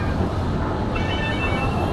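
Train noise fills a railway platform at Vizag station, a loud, continuous rumble of rolling railcars close by with no pauses.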